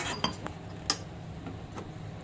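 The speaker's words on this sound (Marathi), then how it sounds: "तेल सुटेपर्यंत आपण ढवळत राहायचं." A spoon stirs masala in a metal pan while cooking pomfret fish curry, giving a few sharp clinks and scrapes against the pan over a low background hum.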